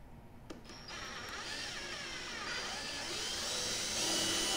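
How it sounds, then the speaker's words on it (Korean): A drill enlarges a hole in the rear fender of a Tesla Model 3, a steady whining drone that builds and grows slightly louder as the bit works through the panel. "지금 처음에 있었던 게 구멍이 작아서 좀 더 큰 놈으로 뚫어 줄게요"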